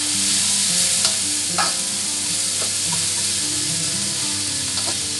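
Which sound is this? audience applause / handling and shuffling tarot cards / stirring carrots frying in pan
stirring carrots frying in pan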